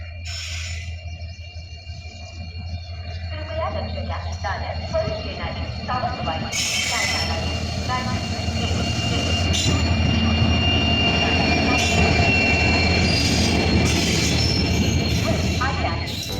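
An express passenger train departing Ratnagiri rumbles steadily along the rails, its noise building and staying loud with a continuous drone and occasional metallic squeal; voices faint underneath.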